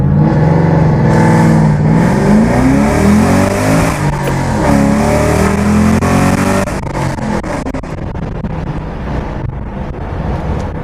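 A modified 2007 Shelby GT Mustang accelerates hard, its deep roar climbing steadily through the revs over several seconds, with wind buffeting the microphone as it settles.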